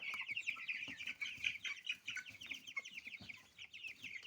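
A young Cobb 500 broiler rooster chick cheeps and clucks in rapid, high-pitched chirps, close and fairly quiet, with soft rustling and movement underneath.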